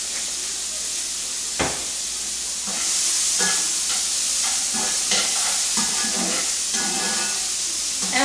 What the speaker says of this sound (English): Let's saute this up a little bit more.